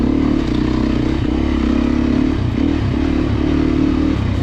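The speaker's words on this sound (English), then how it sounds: "So compared to the 430, it's a lot more free revving, I would say." Beta 390 RS, a street-legal dirt bike, revving its engine at a demo day, a loud close buzzing drone rising and dipping in quick repeated bursts that spin up fast, with no talking.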